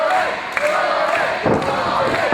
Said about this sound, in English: The fans, the crowd here chanting for Jordan.